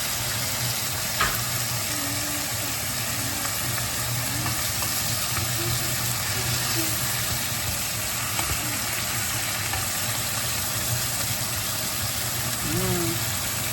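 Garlic and rosemary sizzling in a hot pan alongside steak, a steady broad hiss of frying with a low hum beneath and faint intermittent sounds over it.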